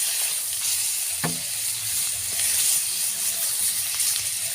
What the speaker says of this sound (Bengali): মাছগুলো সুন্দর করে ভেজে নিতে হবে।